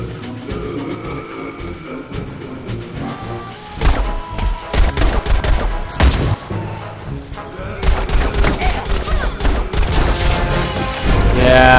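In Plants vs. Zombies: Garden Warfare, loud bursts of gunfire hammer in irregular volleys with a heavy blast among them, the shooting building toward the end, with little talk over it.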